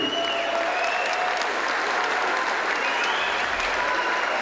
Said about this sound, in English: Big round of applause to both fighters,